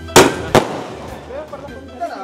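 Diwali firecrackers burst twice in quick succession, loud sharp bangs close by, followed by fainter crackling and distant pops while people talk in the background.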